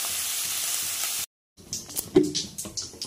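Cumin seeds hit hot oil for tempering and crackle into a lively sizzle after a brief silence, with stirring clatter and sputtering bursts following a duller earlier hiss.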